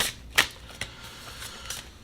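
Star Tarot cards are shuffled by hand nearby in several quick riffling bursts, a sharp snap among them, over a low steady background.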